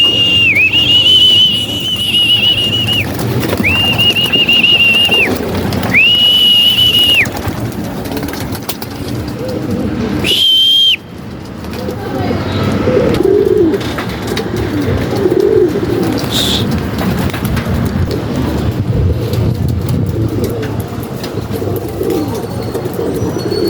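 Young racing pigeons are released at a loft, with soft coos and bird calls close by. Three sustained whistle tones come early, then a single short one, and a low rumbling background runs throughout.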